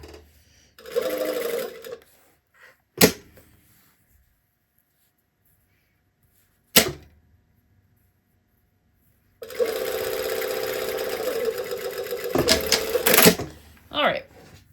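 An industrial sewing machine without a walking foot stitches fabric in two bursts of fast, steady whirring, separated by sharp clicks and a quiet pause.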